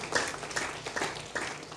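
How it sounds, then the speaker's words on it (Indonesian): A congregation at a church worship service claps in steady bursts, a room full of applause rising and falling in waves for a couple of seconds, with no voices on top. "Boleh beri tepuk tangan dulu bagi Tuhan."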